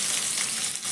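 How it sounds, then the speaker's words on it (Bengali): Chopped onion hitting oil with fried mustard seeds and cumin gives a loud, dense sizzle, a steady close hiss with no voices. "সর্ষে আর জিরেটা ভাজা হয়ে গেছে। এখন আমি এর মধ্যে দিয়ে দিচ্ছি একটা বড় সাইজের কুচনো"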